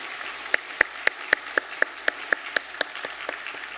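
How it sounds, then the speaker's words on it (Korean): A church congregation at a Sunday service claps together to welcome new members, sharp even beats about four per second, roomy and moderately loud with no talk. "우리 박수로 환영하도록 하겠습니다."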